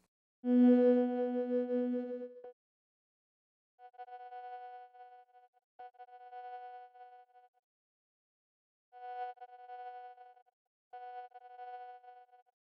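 Layered synthesizer tones from the Dawesome MYTH resynthesis synth: a loud rich sustained chord, then quieter harmonic layers fading in and out in separate bursts.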